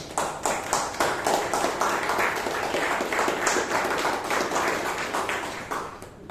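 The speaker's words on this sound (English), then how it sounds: "a huge round of applause for each and everyone who came up on the stage" A meeting audience at a Toastmasters club in Bangalore claps steadily for everyone who took the stage, a sustained, even round of applause with no voices over it.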